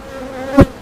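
Honey bees buzz at an open hive, a steady close hum with a brief louder burst of air or wingbeat near the end, and no voices.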